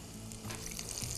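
Cauliflower pakoras in batter sizzle steadily in deep frying oil, a continuous close hiss with faint crackles and no talking.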